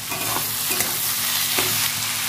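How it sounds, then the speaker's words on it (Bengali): Potatoes, eggplant and onion frying in fish oil, sizzling loudly up close while a utensil stirs and scrapes the pan in a few distinct strokes. "ভেজে রাখা আলু আর বেগুনটা দিয়ে দেবো। এবার ভালো করে ভেজে নেবো।"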